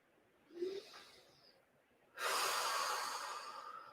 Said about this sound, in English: Breathing in and out a little bit